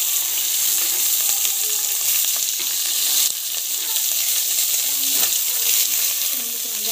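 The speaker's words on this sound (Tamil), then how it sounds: "ஆனியனை போட்டு நல்லா வந்து வதக்கிக்கோங்க" Onions sautéing in hot oil for a simple home-cooked dish with green chilli and biryani spices: a steady loud sizzle and crackle throughout, with occasional stirring scrapes and small pops.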